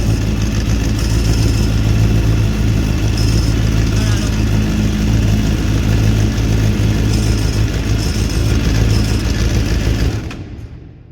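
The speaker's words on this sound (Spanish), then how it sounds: "Fijaros cómo gira el embrague. ¿Escucháis?" Suzuki GSX-R 600 motorcycle running with its clutch spinning, a steady close mechanical whir and engine drone that holds evenly for about ten seconds before cutting off at the end.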